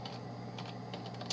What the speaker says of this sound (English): press Ctrl S using the keyboard and type the file name here